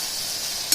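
Fried eggplant and hilsa fish sauté in a pan with a steady, even sizzle held close throughout, ending in a brief louder crackle.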